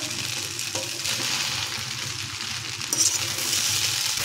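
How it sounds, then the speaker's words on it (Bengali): Chow mein tossed with egg and onion fries in a pan over a high gas flame, giving a steady, close, continuous sizzle with stirring scrapes throughout and no talk. "এখন এটাও খুব ভালোভাবে মিশিয়ে নিতে হবে, আর মেশাতে চাউমিনটাও ভাজা হয়ে যাবে, কারণ গ্যাসের ফ্লেম হাইতে করা আছে"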